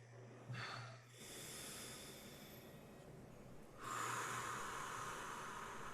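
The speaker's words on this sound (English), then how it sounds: "let's take a moment to breathe." A deep breath drawn in sharply through the nose, then a long breathy exhale, close and fairly soft with no speech.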